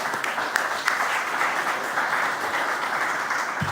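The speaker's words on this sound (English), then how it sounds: "and one round of applause for them." Audience at a UNESCO panel on sciences and emerging technologies applauds steadily for a few seconds, a dense, even wash of clapping with no talk over it.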